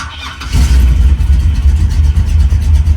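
A fuel-injected 1971 Chevrolet Camaro split-bumper engine starts without throttle: a brief crank, then it catches and settles into a loud, steady, deep idle rumble close by.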